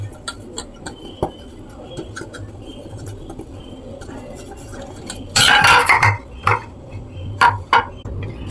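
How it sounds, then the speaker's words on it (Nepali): Oil is spread over a metal idli steamer pan, giving soft scraping under light clinks and taps of metal, with a louder rattling burst midway and a few sharp knocks after. "मैले भाँडामा यसरी तेल लगाएँ।"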